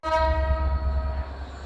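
A long, loud horn blast from the Banglabandha Express intercity train arriving at Natore railway station, a sustained tonal blare that starts abruptly, fades slightly and holds to the end, close by.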